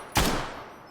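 A loud gunshot burst in Fallout New Vegas with a sharp attack and a long echoing tail, heard on its own with no voices.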